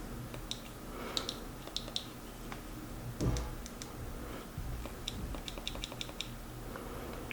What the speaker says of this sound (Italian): Il clic tra una modalità e l'altra è comunque molto distinguibile.